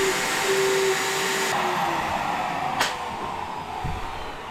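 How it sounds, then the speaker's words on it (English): A router fitted with a new bit cuts a window opening out of wall framing in a bus conversion, a loud steady high-pitched motor whine with rough cutting noise that shifts tone partway through, close by and without speech. "Try to route this window out, this new bit."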